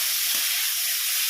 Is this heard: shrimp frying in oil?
yes